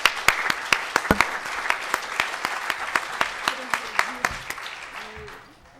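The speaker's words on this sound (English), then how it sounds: "So let's just give a little round of applause for." An audience at a California developmental services event breaks into a round of applause, steady dense clapping that carries on for several seconds before thinning out toward the end.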